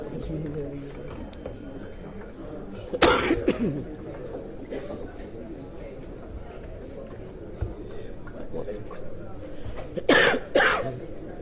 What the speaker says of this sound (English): Don't start coughing now